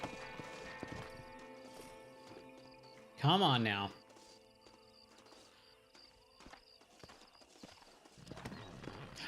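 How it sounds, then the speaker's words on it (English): A horse in the Western video game Red Dead Redemption gives one loud, short neigh, with soft hoof clip-clops and game ambience around it and someone speaking briefly. "I believe this is my horse."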